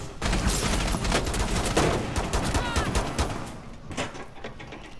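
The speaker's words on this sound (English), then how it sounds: "Oh no, they're shooting at me." Gunfire in the tactical shooter Rainbow Six Siege: dense, close rapid automatic shots in continuous overlapping bursts for several seconds, loud throughout.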